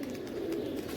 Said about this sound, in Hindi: माशाल्लाह जी टोटल कबूतर बाहर आ चुका है